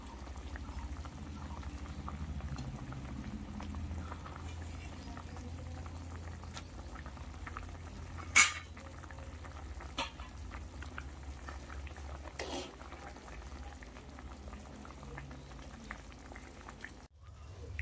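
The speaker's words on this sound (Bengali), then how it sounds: "ঝোল 5 মিনিট ফুটে গেছে, এরপর আমি ভাজা মাছগুলো এর ওপর দিয়ে দিলাম।" A Bengali rohu fish curry with potato and pointed gourd boils steadily in a pot. The bubbling is soft and continuous, with a couple of sharp clinks partway through.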